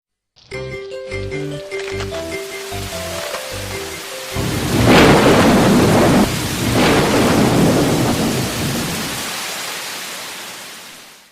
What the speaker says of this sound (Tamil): அட, என்ன ஒரு மழை!